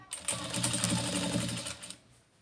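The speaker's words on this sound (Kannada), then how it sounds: "ಇವಾಗ ಸ್ಟಿಚ್ ಮಾಡ್ಕೊಂಬರ್ತೀನಿ" Sewing machine stitching a blouse, a steady close whirring run of rapid needle strokes lasting about two seconds before stopping, with no talk.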